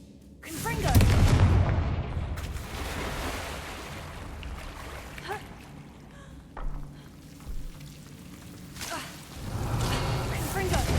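Fire spell explosions cast in the Hogwarts Legacy video game, heard as a loud opening burst followed by several softer booming thuds and rumbling debris, with a swell of noise returning at the end.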